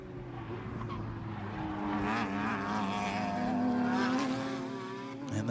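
GT1A race cars at the FARA Memorial 300, among them the 132 and the 08, sweep through turn one, engine notes rising and falling as they swell closer and then fade.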